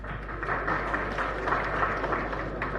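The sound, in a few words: students applauding at an event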